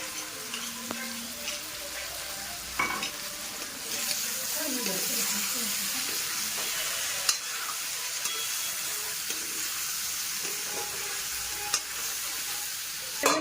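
Meat and potatoes with ginger and garlic frying in oil, stirred with a soft steady sizzle and occasional scraping clicks, moderately quiet with faint background noise.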